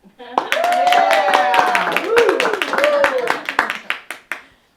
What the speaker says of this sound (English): So let's all give a great applause for Jan Magner